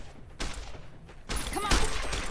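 Rifle gunfire in the Fallout: New Vegas video game, a few sharp loud shots in quick irregular succession with a brief gap between bursts.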